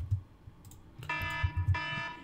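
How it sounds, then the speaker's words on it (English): A timer alarm sounds two bright electronic beeps in quick succession, each a short tonal burst, over faint clicking and background hum. "that's the timer going off"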